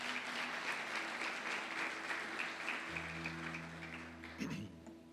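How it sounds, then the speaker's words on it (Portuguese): A church congregation applauds steadily, a dense wash of clapping that fills the room for several seconds, with a low sustained tone from an organ or keyboard joining partway through and a brief sweep near the end. "Aplauda o Senhor Jesus pela palavra"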